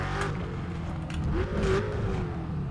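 Car engine revs and whirs in the racing game Need for Speed: Undercover during a police chase, a steady close drone that rises briefly in pitch as it accelerates.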